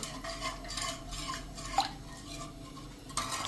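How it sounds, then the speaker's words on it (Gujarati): Fine semolina is stirred steadily in a pan over a medium flame, with repeated soft scraping sweeps of a spoon, one sharper clink, and a low hum beneath, all close and without voices. "આ રીતે કન્ટિન્યુ ચલાવતા જાશું અને રવો મિક્સ કરતા જાશું."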